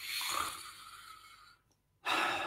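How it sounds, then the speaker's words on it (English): Long, audible yogic belly breath drawn in slowly and steadily as a breathing exercise, a close, breathy rush lasting over a second, then a brief quiet pause before another strong, loud breath begins. "like a yogic breathing, so that we can actually make an audible breath"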